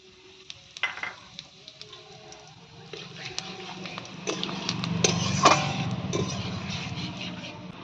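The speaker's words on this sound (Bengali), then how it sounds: "আর এখানে আমি শুকনো লঙ্কা দুটো তেজপাতা, একটু গোটা জিরে ফোড়ন দেব" Dried red chillies, bay leaves and whole cumin hit hot oil for tempering in a home kitchen, starting with scattered pops and crackles that build into a steady, louder sizzle, with a sharp clink of a utensil partway through.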